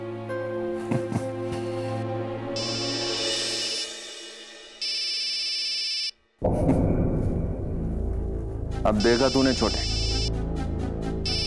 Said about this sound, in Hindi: आ गया फोन।